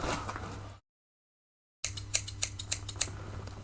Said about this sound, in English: I'll just need a pair of scissors.